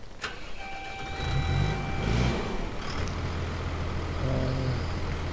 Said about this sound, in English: Let's first start up the tractor.